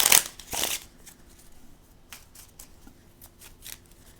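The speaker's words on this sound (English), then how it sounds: "Shuffle these up." A deck of cards riffled twice in quick bursts, then soft scattered card handling and light taps, close and fairly quiet.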